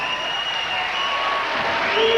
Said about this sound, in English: Ricky should get a pretty good round of applause here.